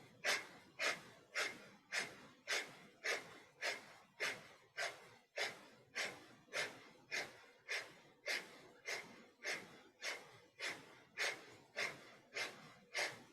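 Rapid, rhythmic breath of fire yoga breathing: about twenty sharp, forceful exhales in an even pulse, close and clear with no talking.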